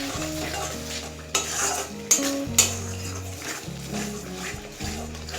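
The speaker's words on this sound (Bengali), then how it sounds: "এবার সব কিছু ভালো করে মিশিয়ে নেব।" Chana paneer masala with cashew-poppy paste and whipped curd is stirred in a pan, soft scraping and a few sharp utensil knocks against the metal, over gentle background music.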